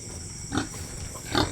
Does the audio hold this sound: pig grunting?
yes